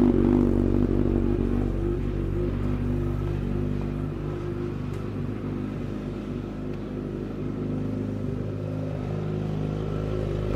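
A Kawasaki Z900 superbike idles after a cold start following about ten days unused, its engine holding a steady, deep throbbing rumble nearby, slightly louder at first, then even and continuous.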